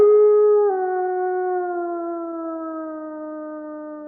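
A voice imitates a howl: a single sustained, tonal wail held alone for about four seconds, dropping slightly in pitch early on and then slowly sliding lower as it fades.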